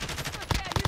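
Brief burst of rapid gunfire in Call of Duty Warzone, several quick shots in under a second, mid-distance and fairly loud amid game noise.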